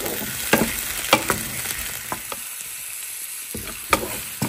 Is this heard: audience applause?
no